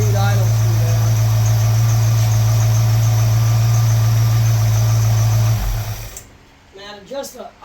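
Car engine with a freshly installed Edelbrock carburetor idles at a steady, loud drone with a strong low hum for most of the clip, then cuts off abruptly, leaving quiet handling noises near the end.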